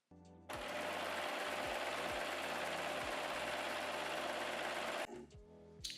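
A sewing machine runs an overlock stitch at long stitch length on swimwear elastic, one steady, close, loud mechanical whir lasting about four and a half seconds, with a few quieter clicks before and after.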